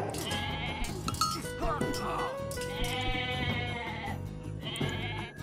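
Repeated goat bleats from Age of Mythology sound in several wavering bursts over dense in-game music and battle clatter, with no talking.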